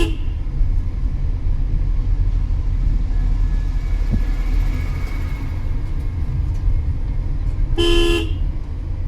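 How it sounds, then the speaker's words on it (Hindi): A car horn blares briefly near the end over steady, loud road traffic rumble while driving past a flyover on a busy city road. "वो आ जाएगा पीठ पे आके लगेगा हॉर्न मारने"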